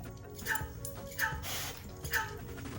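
A Raspberry Pi robot dog gives a few short electronic barks on command, three evenly spaced yips rising over steady background noise, with a person speaking commands nearby.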